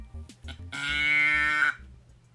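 A handheld moo box toy sounds one long, loud, drawn-out cow moo with a rising-then-falling tone, preceded by a few soft knocks and handling noises and followed by quieter rustling.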